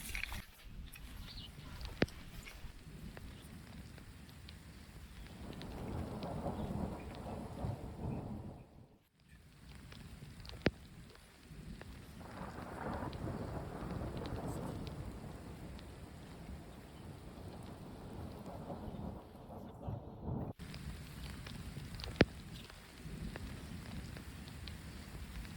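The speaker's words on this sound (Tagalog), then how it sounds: "Umuulan na naman." Steady rain falls at a backcountry campsite in Algonquin, a soft continuous wash with occasional low rumbles that may be distant thunder, heard faintly with no clear talk.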